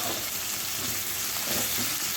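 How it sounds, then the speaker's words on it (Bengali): Sliced onions frying in oil left over from frying potatoes, a dense, even sizzle that is close and continuous throughout, with no talking. "আলুটা ভেজে তুলে নিয়েছি আর সেই তেলের মধ্যেই দিয়ে দিয়েছি পেঁয়াজ"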